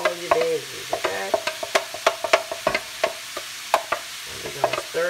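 Chopped vegetables for cabbage soup stirred in a pot, a run of close, distinct clinks and scrapes of a spoon against the pot in an uneven rhythm over a quiet background.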